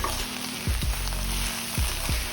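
Brinjal fries in oil in a pan with turmeric and curry leaves added, a constant close sizzle broken by several quick scraping stirs.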